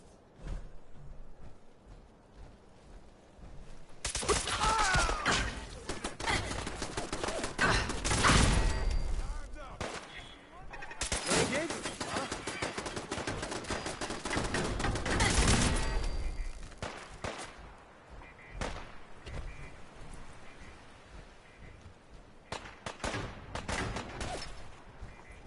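Heavy gunfire in the post-apocalyptic game Fallout 4, loud sustained volleys of rapid shots in two long bursts with chaotic battle noise between, and a speaking voice over parts of it.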